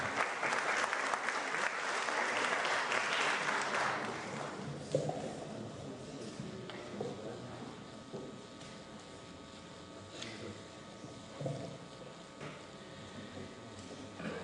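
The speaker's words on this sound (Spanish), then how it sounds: "Vamos a recibir con un fuerte aplauso al doctor Armando Zambrano Leal" Loud audience applause welcoming Dr. Armando Zambrano Leal to a lecture on teaching, reading and writing, dense clapping for about five seconds before thinning into scattered claps and room noise.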